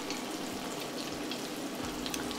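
Combro pieces fry in hot oil in a pan, giving a steady, even sizzle and crackle throughout, close up, with faint low bumps underneath.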